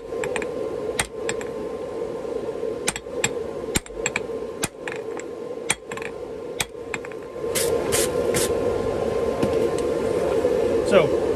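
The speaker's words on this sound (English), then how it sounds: "First set down, we're going to do on the far mark on the inside using the edge of the anvil." While forging a wrapped eye axe from railroad steel, a hammer strikes a set down on the edge of an anvil, giving sharp metallic blows at irregular intervals that come faster and denser toward the end.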